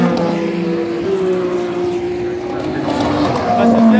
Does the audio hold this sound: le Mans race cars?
yes